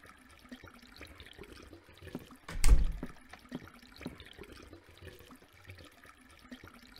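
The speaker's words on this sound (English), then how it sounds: "I don't want to check out the bubbling noise" Bubbling water in a horror video game, a faint gurgling wash swelling briefly into a louder surge midway before settling back to quiet trickling.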